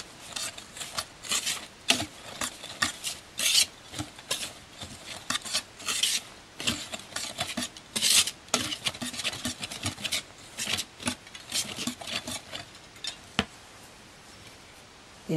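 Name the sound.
mixing pandan kutsinta batter with sugar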